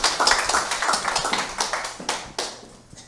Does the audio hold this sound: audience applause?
yes